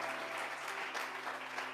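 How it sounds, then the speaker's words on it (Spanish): A church congregation applauds, dense steady clapping from many hands that fills the room evenly for the whole stretch, with no pauses. "Denle un aplauso fuerte."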